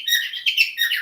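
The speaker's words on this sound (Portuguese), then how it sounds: "Às vezes tem um passarinho cantando ao fundo," Small bird singing in the background, with a steady run of high, bright chirps and warbling tweets filling the whole second, fairly clear with no talk over it.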